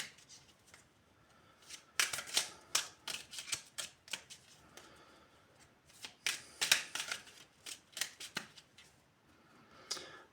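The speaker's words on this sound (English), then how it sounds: "So I will pull some more cards." Cards are shuffled and drawn by hand, giving a quick series of crisp riffling bursts and soft slaps close by, with brief pauses between them and no talk.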